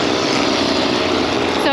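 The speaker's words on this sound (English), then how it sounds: "riding away on this lawnmower" Riding lawn mower engine running steadily at close range, a loud continuous high-pitched drone with no pauses.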